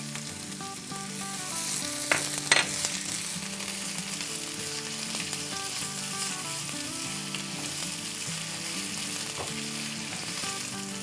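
Garlic and ginger paste sizzling in a hot pan while cooking a Mongolian beef stir fry, a steady loud frying hiss with a few sharp spatters and clinks, no talking.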